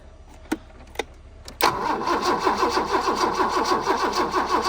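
An abandoned BMW E30 left with ten-year-old gas cranks over on its starter without firing, a steady rhythmic churning that follows a couple of sharp clicks, close and loud.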